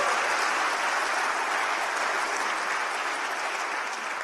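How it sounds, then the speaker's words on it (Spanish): A church congregation claps steadily and loudly in praise of God, a dense, continuous wash of many hands with no pauses, filling the whole moment without talk over it. "Démosle palmas al Señor del Dios glorioso."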